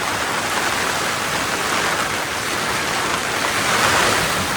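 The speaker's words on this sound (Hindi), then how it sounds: "खतरनाक तूफानी ओले पड़ रहे हैं, तूफानी।" A heavy hailstorm in cold winter weather, hail pelting down in a dense, continuous roar that stays loud and steady throughout, with no voices.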